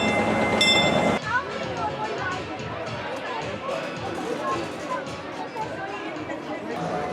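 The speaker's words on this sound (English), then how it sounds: "we have a contender with like slowest train in America." Slow amusement park train ride at Adventureland on Long Island, its steady rolling rumble and faint clatter running beneath crowd chatter and nearby voices.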